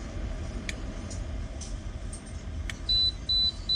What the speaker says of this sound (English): There's the beeps to tell me that it's there.